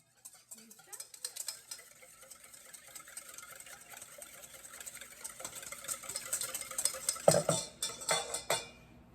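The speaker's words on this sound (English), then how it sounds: "Now we are going to whisk all this." Two eggs with sugar being whisked in a bowl for chocolate cake batter, heard as a steady rapid clinking and scraping of the whisk that grows louder and more vigorous toward the end, close with no talking.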